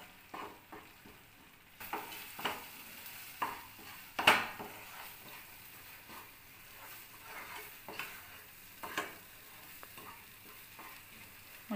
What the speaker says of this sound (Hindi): मसालों को हम अच्छे से भून लेंगे लगभग 2-3 मिनट तक।